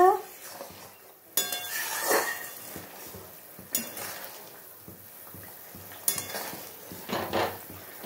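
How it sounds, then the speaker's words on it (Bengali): A spoon stirs a simmering fish and potato curry in a pot, scraping and clinking against the metal in several separate bursts with a soft bubbling underneath and no talk. "হ্যাঁ, একটু নাড়িয়ে দেবো"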